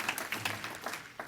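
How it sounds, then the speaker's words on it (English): Applause rises at a Lonesome Pine Raceway awards banquet, a faint, scattered patter of hands clapping in a hall, brief and somewhat distant. "Once again, a round of applause for Pro Image Graphics of Lebanon, Virginia"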